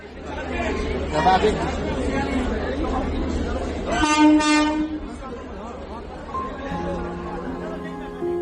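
A train pulls into a busy railway station with a loud rumble, crowd chatter and public-address voices, and a horn blast sounds about midway.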